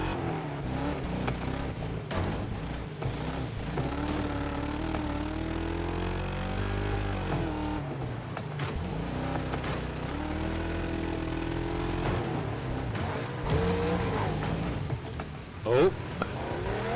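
Several video game racing car engines roar and whine together on a crowded track, with rising and falling revs and someone talking over the noise.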